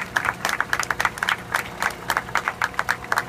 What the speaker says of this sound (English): We can give a better round of applause than that.